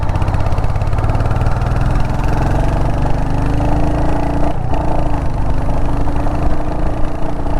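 Steady, loud running of a 2022 Royal Enfield Hunter 350 single-cylinder motorcycle engine, a close, even thumping drone with a brief pitch shift midway and no talking.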